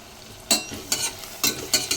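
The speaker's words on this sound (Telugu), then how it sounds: "కొద్దిగా ఆన్లో పెట్టుకొని వేయించుకున్నాం." Onions frying in a pan for a colocasia tamarind curry, stirred in several distinct scraping bursts over a soft, steady sizzle, close and fairly loud.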